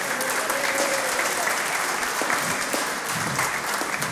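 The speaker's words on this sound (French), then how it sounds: "On peut se lever, on peut vous applaudir" An audience at a French church sing-along claps in a full round of applause, close and lively throughout, with faint voices mixed into the crowd noise.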